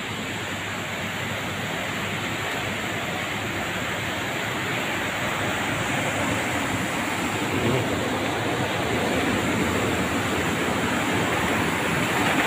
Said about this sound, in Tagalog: Maragasan na naman ang tubig. Ang kulay ng tubig ay tsokolate.